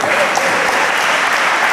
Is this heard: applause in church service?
yes